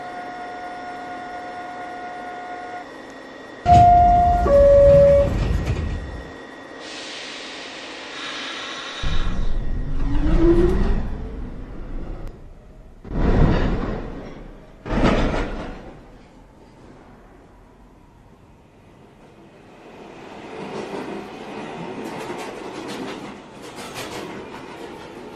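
A 1 train moves through Fulton Street station in the New York City subway, with chimes, loud rumbling and screeching bursts as cars pass and brake, whooshing surges, then a fading rattle and distant station noise.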